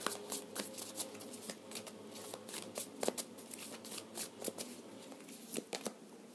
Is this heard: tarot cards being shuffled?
yes